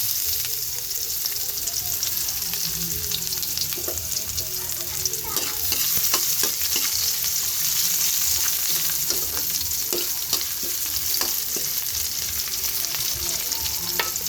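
Garlic and onion sauté in a pan for a Filipino seafood dish, giving a steady close sizzle with scattered crackles and the clack of a stirring utensil throughout, with no talk.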